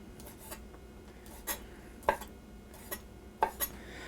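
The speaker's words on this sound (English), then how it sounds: "I'm going to do the same thing with the shrimp. Just chop these up into smallish pieces." Quiet, irregular knife strikes on a cutting board as shrimp are chopped into small pieces for shellfish chowder, a handful of soft taps and scrapes with a few sharper knocks, no talking.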